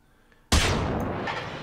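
Gunfire in the video game Generation Zero: a single sudden, loud shot cracks out after a near-silent moment, then trails into a long rumbling echo.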